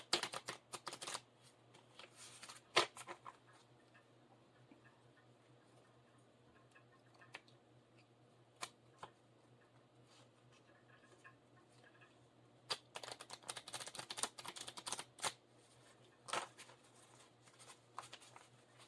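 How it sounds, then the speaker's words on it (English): Quiet riffling and flicking of playing cards comes in short bursts at the start, middle and end, with soft taps and near-silence between. "I'm not a very good shuffler, as you guys can see. These cards don't even want to go together."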